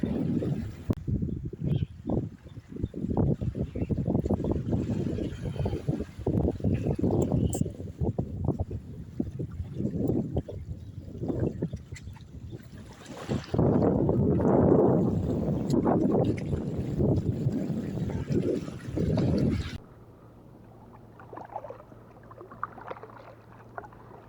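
A small kayak is paddled out from shore on a windy sea for fishing, with close, continuous splashing strokes and rough wind buffeting the microphone. The sound drops to a quieter, steady hum for the final few seconds.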